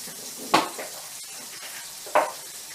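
Slices of toast bread fry in hot oil in a pan, giving a steady low sizzle broken by two sharp scraping clinks of a utensil against the pan about a second and a half apart.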